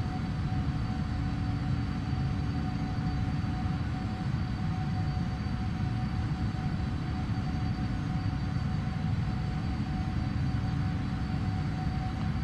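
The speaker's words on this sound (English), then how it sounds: "So like always, the 200LR is climbing like a rocket, really." Boeing 777-200LR jet climbing in the Prepar3D flight simulator with the PMDG add-on, a steady broadband engine roar with a faint constant whine, even and unbroken throughout, no talking.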